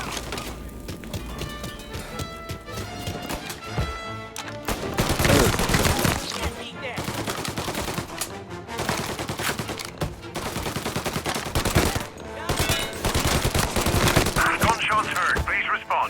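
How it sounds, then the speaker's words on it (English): Video game gunfire in Mafia: Definitive Edition, with bursts of automatic fire and repeated single shots in rapid, uneven volleys, loud and close, with short pauses between exchanges and voices mixed in beneath. "Gunshots heard."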